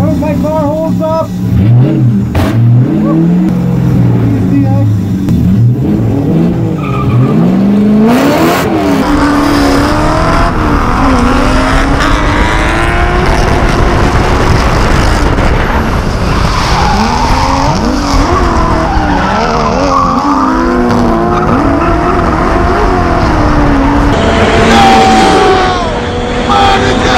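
A Toyota KE70 fitted with a 1UZ V8 engine races at Clark Speedway, its loud engine revving and accelerating through gear changes while tyres squeal and skid continuously up close, with a driver talking over it.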